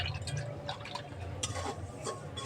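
Tomatoes and green chillies are rinsed in water, with soft trickling, dripping and splashing at close range and quiet level, occasional brighter splashes standing out.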